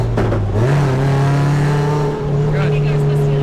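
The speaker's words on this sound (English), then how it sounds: "rev match, and one down." A car with a sequential transmission makes a rev-matched downshift. Its loud, close engine drone jumps briefly in pitch, then holds steady under faint voices.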